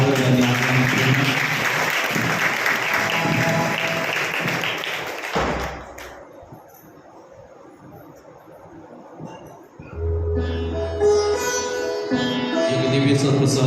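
A church congregation applauds to welcome a priest, loud clapping for about five seconds that breaks off, followed by quieter thuds and taps and then renewed sound with tonal music-like elements.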